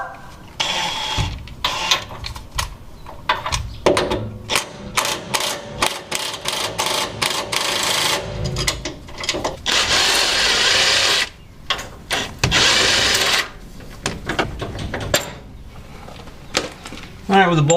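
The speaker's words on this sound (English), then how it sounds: "so I'm going to use my adjustable wrenches here" An adjustable wrench works loose the track bar bolt on a Dodge Ram 2500, producing loud, rapid bursts of metallic ratcheting and clicking, repeated in short runs with brief pauses between them, close by.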